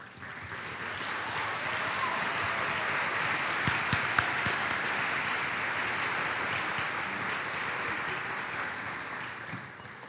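An awards-show audience applauds teachers and school staff in a long, steady wash of clapping with a few sharp claps and scattered cheers, no voices over it.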